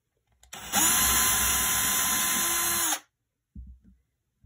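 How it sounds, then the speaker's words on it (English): Power drill boring a hole in a homemade stud earring organizer, one loud, steady high whine held for about two seconds after a quick spin-up, followed by a couple of brief low knocks. "we're going to drill away"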